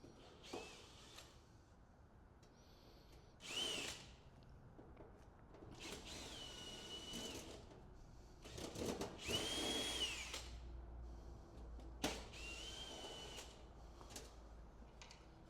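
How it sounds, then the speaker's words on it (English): A cordless driver undoing the side panel screws on a Poolex Ice Spa heat pump, several short whirring bursts separated by pauses, close and fairly quiet with no one talking. "Then we undo the bottom screws, which you can see there"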